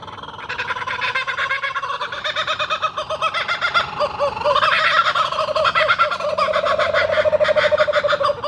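Loud, repeated calls from a flock of wild black cockatoos in Australia, harsh rhythmic cries overlapping continuously, close by and with no talking.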